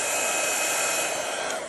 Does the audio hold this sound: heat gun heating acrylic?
yes